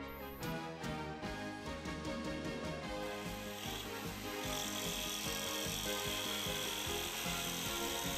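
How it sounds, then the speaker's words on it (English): A Swiss Army jigsaw saws through metal in quick, rapid strokes, producing a rasping, rhythmic cutting noise that carries on steadily and close up. "I tell you, the Swiss Army jigsaw works really well. Cut through this metal really quickly."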